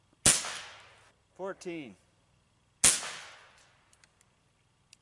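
Two sharp, loud shots from a Benjamin Discovery PCP air rifle, each a crisp crack with a short decaying tail, set well apart, with a brief spoken word between them and faint clicks afterward.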